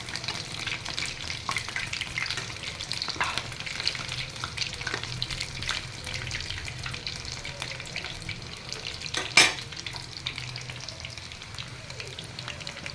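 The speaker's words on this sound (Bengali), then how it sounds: "লাল লাল মচমচে করেই এটাকে ভাজতে হবে" Food fries in hot oil until red and crisp, making a steady bubbling sizzle throughout with occasional soft stirring scrapes and one sharper clatter partway through.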